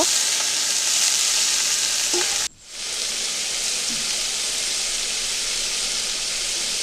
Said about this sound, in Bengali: তেলটা গরম হয়ে গিয়েছে আলুগুলো একটু ভেজে নেব নুন হলুদ মাখানোর আলুগুলো একটু ভেজে নেব